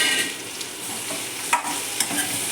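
Fried taro root (seppankizhangu) being stirred in a frying pan, with a soft steady sizzle and a few scraping clicks of the spoon against the pan, no voices.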